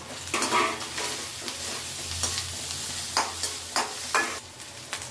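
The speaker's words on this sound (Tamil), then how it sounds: "இப்போ வெங்காயம், பச்சை மிளகாய், பூண்டு வதங்கிடுச்சு" Steady sizzling of onion, garlic and green chilies frying in a pan, with repeated scraping stirs at irregular intervals, close and moderately loud.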